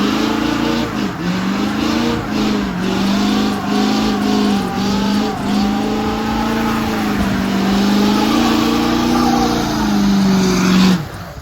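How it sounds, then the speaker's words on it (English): A truck engine revs hard during a burnout, close and loud, its pitch rising and dipping repeatedly in surging waves before cutting off abruptly at the end. "He said this thing does some pretty gnarly burnouts."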